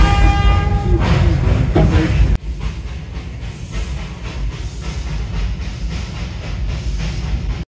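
Darjeeling steam toy train running on the line near Batasia Loop, a steady loud rumble and rattle of wheels and carriages with a hissing edge, continuous and close throughout, with no talk.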